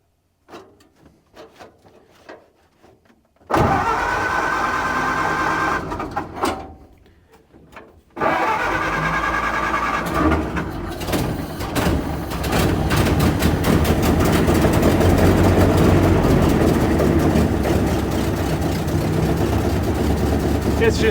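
An abandoned 1929 Ford AA tow truck, choke on, is cranked and then starts. After some knocking and handling noises, the engine catches and runs with a loud, rough, steady idle, and brief voices are heard.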